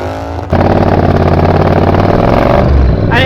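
A Triumph Bobber Black motorcycle engine runs close and loud, starting after a brief lower-level lead-in and then holding a steady, throbbing rumble with no talking.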